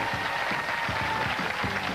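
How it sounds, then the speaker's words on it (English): A studio audience claps for a guest on a hidden-camera show, a brief burst of dense applause with a few distinct louder claps standing out, steady and fairly close throughout. "Give him a round of applause, folks."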